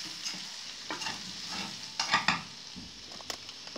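Fried potatoes with vegetables are stirred in a pan, with soft scraping strokes and a few sharper clinks over a light, steady sizzle, close and alone.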